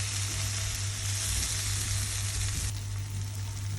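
Tomatoes fry in a pan with a steady, close sizzle and crackle that holds evenly throughout, with no voices.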